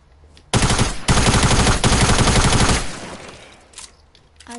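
Rapid SMG fire in the Fortnite video game: a loud, continuous burst of shots lasting about two seconds with a brief gap, then a fading tail and faint scattered sounds, with no talking.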